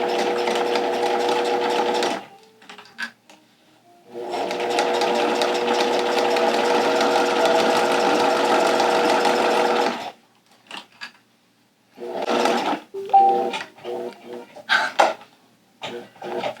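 A sewing machine stitches along a two-layer vinyl pouch in two sustained whirring runs, close and loud, separated by a pause, followed by short bursts and handling clicks.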